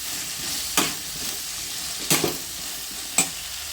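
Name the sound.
stirring and frying cauliflower masala in a pan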